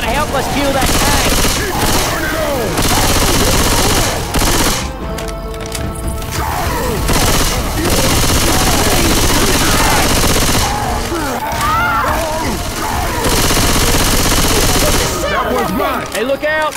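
Sustained rapid gunfire aimed at the Tank in Left 4 Dead 2, loud and near, with bursts of automatic fire, crashes and impacts throughout and voices speaking over the chaos.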